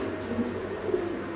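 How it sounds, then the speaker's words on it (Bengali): A cream-bar Damascene pigeon gives two brief, soft coos close by, set against a quiet indoor background. "মাশাআল্লাহ, এখানে আছে একটা দামাসিন কবুতর"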